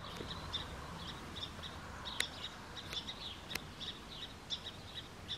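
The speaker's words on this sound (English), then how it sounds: "Oh, the bird's calling in reinforcements." Outdoor bird calls in a yard with a large hawk or raptor nearby: repeated thin chirps with a few sharper notes, moderately distant, over steady background hiss.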